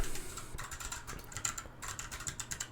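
Fast clattering keystrokes on a computer keyboard, close and crisp, coming in quick irregular bursts with short pauses between them.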